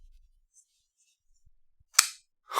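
Monterey Bay Knives EZC 1.5 Micarta folding knife snapping open: after near silence with faint small clicks, two sharp, crisp metallic snaps land close up about half a second apart.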